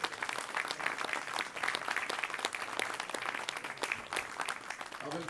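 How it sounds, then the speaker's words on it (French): An audience applauds at a charity cheque presentation ceremony, dense sustained clapping from a crowd that stays fairly even, with some voices mixed in. "j'aimerais que vous applaudissiez"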